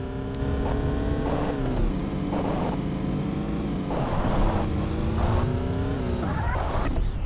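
A car engine drones steadily through a mission in the mobile game Payback 2, with a sustained tonal hum that rises and falls as the vehicle accelerates and shifts, loud and continuous with no talk over it.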